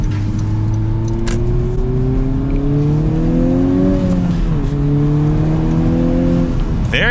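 A 2021 Honda Civic Type R's turbocharged engine and exhaust pull through a twisty road, loud and close, the engine note rising and falling as the car shifts and revs, with a brief lift-off midway.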